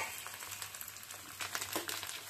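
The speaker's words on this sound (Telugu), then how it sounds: "కొంచెం పచ్చిమిర్చి పేలుతుంది కదా" Green chillies, mustard seeds, curry leaves and dried red chillies frying in hot oil for raw mango pulihora, giving a soft, steady sizzle with scattered faint crackles and small pops, a few bursting more sharply near the end.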